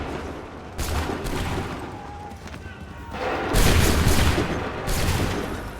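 Soldiers in Assassin's Creed III fire a musket volley, a ragged crackling burst of many shots that swells loudly in two waves amid ongoing battlefield noise.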